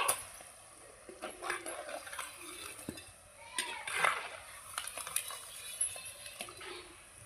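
Fish pieces for a crispy fish fry are stirred and turned in a frying pan, with repeated scraping and clinks of a utensil against the pan over a low sizzle, close by.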